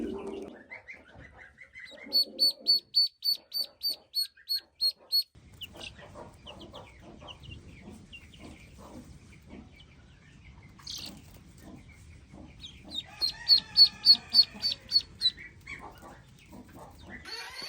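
Young chicks in a chicken coop give bursts of rapid, high-pitched peeps in quick regular series, separated by quieter stretches of low rustling and scattered softer cheeps.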